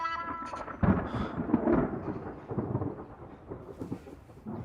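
In a Korean drama scene just before rain, thunder cracks sharply near the start and then rolls on in long, heavy rumbles, with a soft hiss of rain beneath and no talking.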